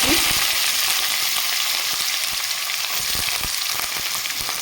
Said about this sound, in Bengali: কড়াই বসি দিয়ে তেলটা গরম করে নিয়েছি দিয়ে দিব একে একে পেঁয়াজ কুচি